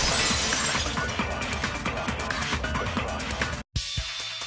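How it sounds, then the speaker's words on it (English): A vase shattering in the Danganronpa 2 video game, a loud crash with a long spill of tinkling glass fragments, then a sudden cut to near silence. "If it wasn't the window, then what broke to make that sound? A vase."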